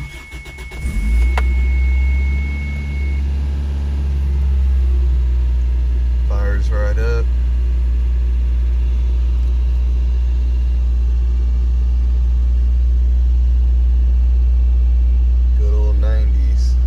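A Toyota Tercel engine cranks briefly and catches, then settles into a loud, steady low idle close by, with brief chirps and rattles heard over the constant engine hum.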